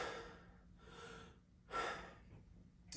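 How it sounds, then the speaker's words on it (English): Three deep, airy breaths taken close and quiet during a vocal warm-up, each a soft rushing inhale or exhale separated by brief pauses, the last one strongest. "A couple of really deep breaths"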